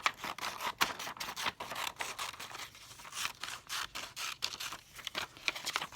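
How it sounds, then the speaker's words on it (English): Scissors cutting out paper shapes, a quiet close run of crisp snips and rustling paper that comes in an irregular, steady rhythm. "I'm cutting all of my shapes out because I'm going to be sorting them"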